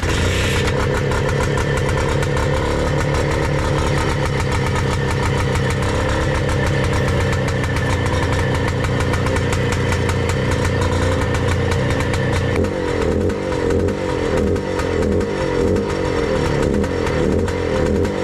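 A Bultaco Alpina 350 motorcycle engine catches and runs steadily with a loud, continuous mechanical drone that fills the whole stretch, changing pitch slightly partway through as the revs settle into a rapid, throbbing idle.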